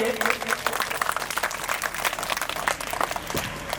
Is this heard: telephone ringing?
no